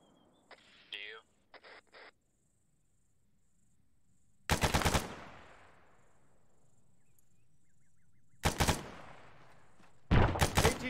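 Gunfire in a military video game operation: three loud, sharp bursts with long echoing tails that fade into the distance, separated by quiet gaps, after a short radio-like voice near the start.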